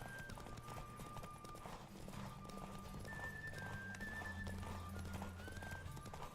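A horse gallops in Witcher 3, its hooves clip-clopping in a quick, steady rhythm with a whinny, heard faintly alone over a low musical drone.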